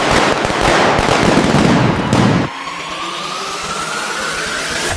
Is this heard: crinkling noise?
no